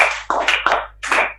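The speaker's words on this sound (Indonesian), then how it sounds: "kasih tepuk tangan untuk Rozabi." Short burst of applause in a classroom, a few close-up hand claps in uneven bursts over about a second and a half, with no talking.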